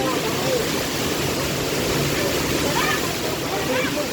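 Heavy rain with strong wind pours in a constant, hissing roar at steady loudness throughout, with faint voices barely surfacing beneath it.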